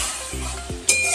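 Water is splashed into a hot pan of prawn curry with green chillies, setting off a sharp sizzle that swells and hisses, with a brief clatter of utensil against the pan.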